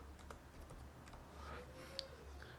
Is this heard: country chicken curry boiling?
no